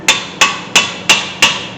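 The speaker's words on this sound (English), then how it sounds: "Just use the hammer to" Five sharp metallic hammer taps on a 2011 Hyundai Santa Fe brake rotor, evenly spaced about a third of a second apart, close and loud, each with a brief ringing decay.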